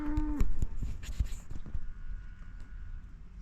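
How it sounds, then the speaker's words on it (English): Cattle moving along a road let out a low moo, followed by clip-clopping hooves and shuffling steps passing close by, with no voices present. "Cows are making it hard for him to get through."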